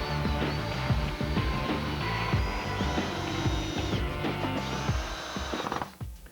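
A power drill drives screws into wood while building a pool table, its motor whine running steadily and loudly throughout with bursts of rising and falling pitch over a dense workshop background.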